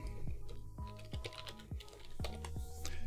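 Fingers type in quick, uneven bursts on a computer keyboard while someone is coding, each keystroke a crisp, close click.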